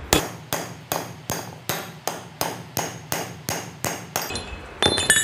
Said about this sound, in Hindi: हथौड़ी से आप पास कर सकते हैं।